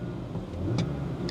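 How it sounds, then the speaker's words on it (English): A BMW six-cylinder engine idles smoothly and steadily, a low, even hum close by, with a couple of brief light clicks over the running note. "You really can't beat a 6-cylinder engine from BM"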